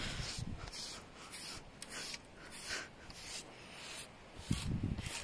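American curry comb rubbing over a horse's coat, close and fairly quiet: a continuous scratchy brushing with repeated strokes and a few louder scrubs, no talking.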